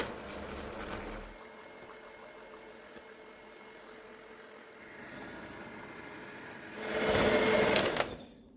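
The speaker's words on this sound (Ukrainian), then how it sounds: "Так, і це все ми збиваємо, збиваємо до пишності" An electric mixer whips eggs with sugar into a thick, pale mass for a milk pie, giving a steady motor whir that drops back in the middle and swells louder near the end.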